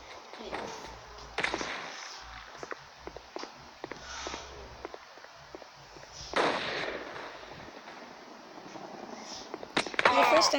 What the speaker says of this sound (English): First time seeing those grenades.